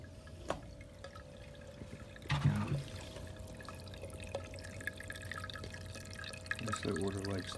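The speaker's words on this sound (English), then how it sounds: "All the water is going down the drain." Water trickling and dripping down an AC condensate drain line, a thin steady flow with a louder gurgling splash midway, faint and close, with someone speaking briefly.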